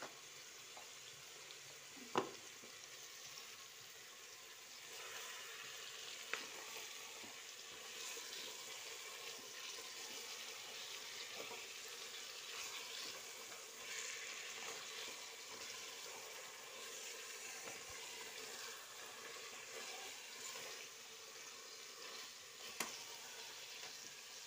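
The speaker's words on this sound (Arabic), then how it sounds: "قلبوها مليح حتى يذوب البصل ولي بيس خف اللحم." Onions and meat fry steadily in a pot with a constant soft sizzle, broken by a few sharp clicks of a spoon as the mixture is stirred, close and without speech.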